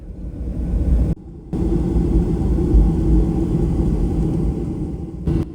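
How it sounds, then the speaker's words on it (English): KLM airliner taxiing fast across the airport, heard from inside the cabin as a steady, loud, broadband engine and rolling rumble with one brief dropout, no voices. "now we're taxiing at high speed"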